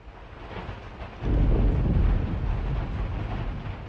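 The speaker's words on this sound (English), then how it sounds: "Can hear some thunder." A low thunder rumble swells and rolls on over steady rain in the video game The Life and Suffering of Sir Brante, loud and sustained after a quieter start.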